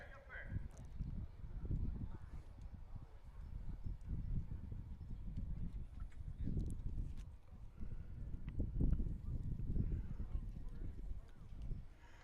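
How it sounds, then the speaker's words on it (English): Harness racing horse hooves at the Attica Independent Fair: a steady, muffled clip-clop of hooves on the track runs throughout, under a public-address announcer talking over the crowd. "Drew Neal, who drove this horse"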